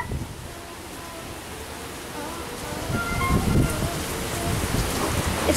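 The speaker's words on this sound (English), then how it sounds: "It's raining like heck." Heavy rain pouring during a hurricane storm, a dense steady wash of noise that swells louder partway through, with gusty low rumbling beneath and no voices.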